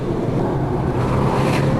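A Porsche 997 Turbo accelerates hard on a track, a loud continuous engine roar with wind rush that holds steady and swells slightly near the end, with no talk over it.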